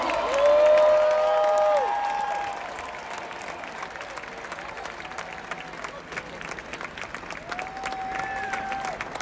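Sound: stadium crowd cheering and applauding at hip hop concert

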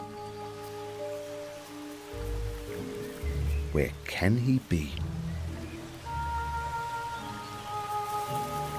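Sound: rain falling

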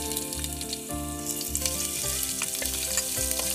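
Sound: chopped ginger sizzling in coconut oil with mustard seeds

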